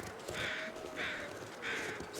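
In The Long Dark's frozen backcountry, three harsh crow caws come in an evenly spaced series, faint and somewhat distant, with a soft wind hiss underneath.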